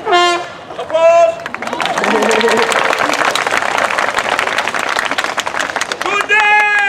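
Crowd at a Renaissance faire opening court bursts into loud sustained clapping and cheering, framed by a man's theatrical speech before and after.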